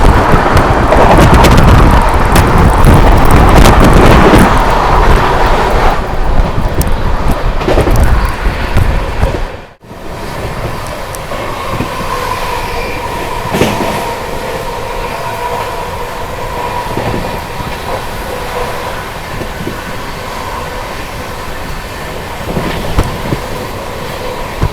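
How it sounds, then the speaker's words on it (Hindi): Sambalpur Express passing alongside the Amrit Bharat Express from Patna to New Delhi, a loud continuous rumble and rattle of wagons that cuts off abruptly after about ten seconds, leaving a steadier running hum of the moving train. "तो लो भाई सामने से आ गई संबलपुर एक्सप्रेस।"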